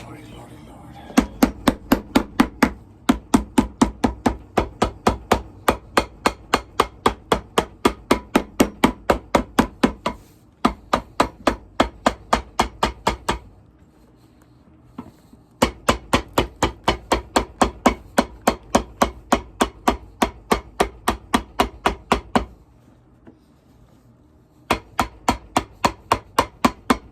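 Steady, rhythmic hammer blows strike riding boots, long regular runs of sharp close knocks broken by brief pauses and a longer gap near the middle.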